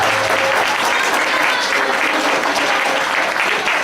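An Italian amateur theatre audience claps steadily, a loud and dense round of applause with no gaps across the few seconds heard.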